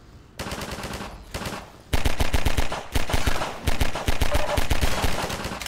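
Rapid automatic gunfire from an enemy soldier in the video game Half-Life 2 Episode 1, loud, close bursts of shots after a quieter opening, then near-continuous firing with brief pauses, no talk.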